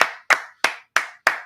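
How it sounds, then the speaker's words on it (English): Five sharp, evenly spaced hand claps, close and loud, each ringing out briefly before the next, from a history class. "Clap it up for class, man."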